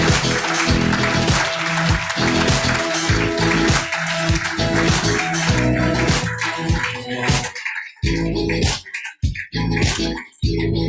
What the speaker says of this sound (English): But a big round of applause, please,